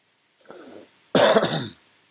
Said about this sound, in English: It's a bit of a cough.